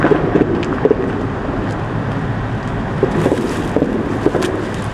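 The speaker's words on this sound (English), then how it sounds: "you can hear the cars passing over" A low, echoing rumble of cars passing overhead on a road above a creek, continuous with occasional thumps and rattles, heard from below amid wind noise.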